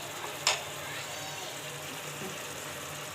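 Bottle gourd pieces drop onto beef cooking in a pot, giving one brief clatter followed by a steady low sizzle that continues quietly on its own.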